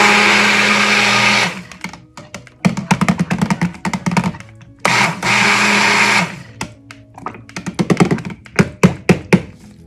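An electric stick blender mixes black oxide pigment into soap batter, whirring loudly in two long bursts separated by rapid on-off pulsing and tapping against the container, no voices.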